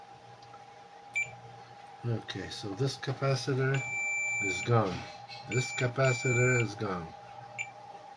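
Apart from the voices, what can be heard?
multimeter continuity beep while testing a laptop motherboard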